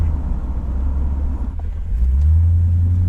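A 1977 Corvette C3 with a 5.7-liter 220-horsepower V8 driving, a deep steady engine rumble heard from inside the car that swells louder as it accelerates near the end.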